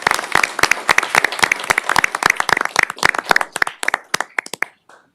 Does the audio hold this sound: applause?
yes